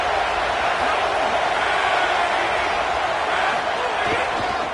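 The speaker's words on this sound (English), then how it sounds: "This crowd, full throat, splitting the eardrums and letting him know" A stadium crowd at a football game roars in a dense, loud, unbroken wall of noise throughout.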